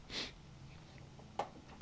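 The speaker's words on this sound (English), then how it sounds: "And I need to sneeze." A single short, breathy sneeze or snort bursts out at the start, followed by quiet room tone and a faint small click later.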